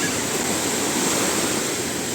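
Sea waves at Shengjin beach in Albania: a steady, close wash of surf noise with no distinct breaks and no voices.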